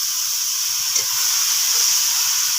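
A little water poured into a hot pan of ground chilli and turmeric hisses and steams loudly and steadily for a couple of seconds, close up and alone.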